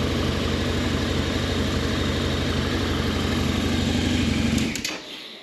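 A Harley-Davidson motorcycle engine idles close by in a steady, smooth, loud rumble with an even pulsing rhythm, then cuts off abruptly near the end, leaving a quieter tail.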